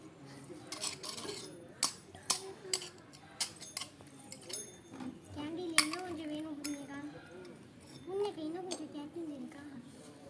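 Ingredients stirred in a small pot during children's play cooking of kootanchoru, heard as irregular scraping and metallic clinks and taps spread throughout, with someone talking alongside.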